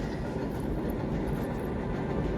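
A passing train makes a continuous low rumble with steady rolling noise, heard from a distance indoors and holding at an even level throughout, with no talk.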